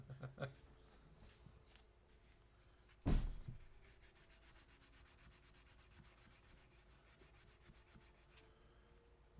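A Han Solo blaster prop is sanded by hand, giving a faint, steady rhythmic rubbing and scraping that runs through most of the clip, with one sharp knock near the start.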